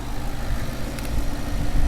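A nitrous-equipped Ford Mustang GT engine idles steadily at 720 RPM with the throttle closed, a close, even low rumble with no speech.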